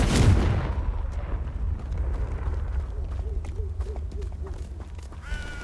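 A Confringo spell blast in the Hogwarts Legacy game, a loud booming explosion at the start that rumbles and decays into low debris and crackle, with faint tonal game effects later.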